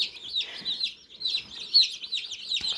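Baby chicks newly arrived in a brooder cheep continuously, a busy chorus of high, thin peeps close by with no talking.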